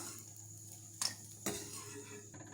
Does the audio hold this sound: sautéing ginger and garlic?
yes